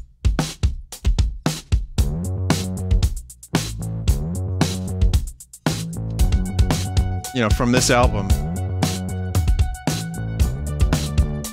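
A band's first single from an album plays as a loud, full rock band recording with drums and sustained chords, while someone talks over the opening moments.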